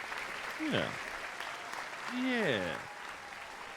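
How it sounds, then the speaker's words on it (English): A crowd applauds in the background of a live sports show, a broad wash of clapping under a voice and a voice speaking briefly over it. "We get to hear the crowd again"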